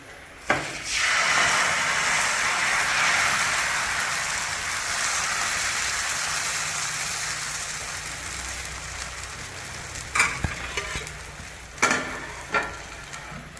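A loud, steady sizzle starts abruptly and hisses on without a break as dosa batter hits a hot pan, with a few sharp clicks toward the end.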